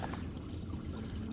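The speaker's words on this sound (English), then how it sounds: "It's water falling underneath that little dam area." Water pours and trickles beneath a small dam in a partly frozen winter ravine. It makes a steady, close, rushing sound with no voices.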